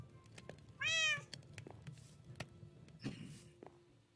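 A single clear meow from a cat in a video game rings out over quiet clicks and soft shuffling, with faint rustling noises afterward.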